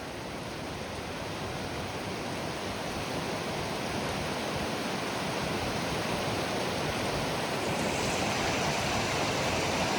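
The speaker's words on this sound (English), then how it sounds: "Look at that waterfall." A Yosemite waterfall roars in a continuous, loud wash of rushing water, steady and unbroken throughout with no voices.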